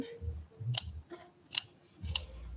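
Scissors trim material on a handmade leopard seal art doll, making three crisp, close snips spaced evenly over a few seconds in a quiet room, with soft low handling noise between the cuts.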